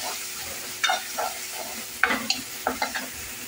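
Crushed ginger dropped into a hot pan for a potato curry, sizzling steadily with several sharp spatula scrapes and stirring knocks, close and clear with no talking.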